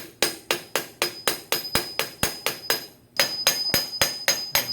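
Steady metal hammer blows on a big socket, tapping a part down on a 1966 Ford Bronco crossmember during an AOD transmission swap; about seventeen loud, evenly spaced close strikes with a short pause before the last few.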